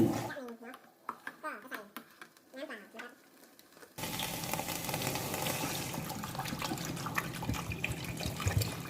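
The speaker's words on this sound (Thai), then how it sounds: "น้ำเปล่าประมาณ 500 ml นะครับ แล้วก็เร่งไฟนิดนึงนะครับ" Someone talks over a quiet background, then water gushes into a pot of Thai red curry with beef meatballs, and a loud, continuous, close splashing and bubbling wash follows.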